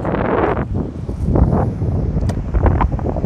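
Strong sustained wind gusts sweep across a pebble and gravel beach at Corso Italia in Genoa, roaring and buffeting the microphone in uneven surges, with surf faintly mixed underneath and no voices.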